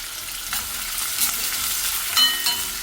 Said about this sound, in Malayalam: നമുക്ക് സവാള ചെറുതാക്കി അരിഞ്ഞിട്ട് കൊടുക്കട്ടോ.